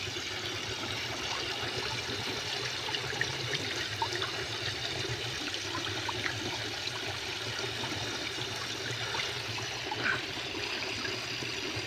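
Water from a farm pump motor pours in a steady, continuous rush, moderately loud and unbroken for the whole stretch, with no talking over it.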